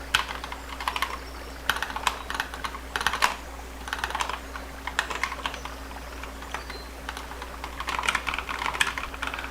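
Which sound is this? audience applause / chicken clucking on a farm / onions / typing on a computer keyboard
typing on a computer keyboard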